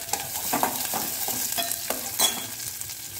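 Onion hisses gently in a pan with a little oil, curry leaves and dried red chillies, broken by several soft scraping stirs of a spoon, moderately quiet and close, with no speech.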